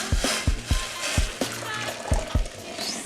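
Boiled onion juice is poured through a sieve to strain out the chunks, a steady close splashing trickle with a series of sharp knocks as the sieve is tapped.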